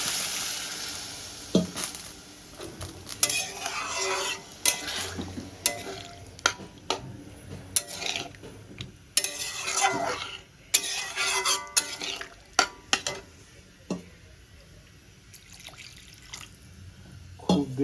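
Water poured into a frying curry, bursts of sizzling and bubbling with intermittent stirring clatter, rising and falling across the stretch, close and moderately loud.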